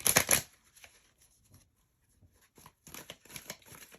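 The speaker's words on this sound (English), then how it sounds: "I'm going to shuffle off camera." An oracle card deck is shuffled close by, a quick riffling burst at the start followed by softer intermittent card flicks and slides.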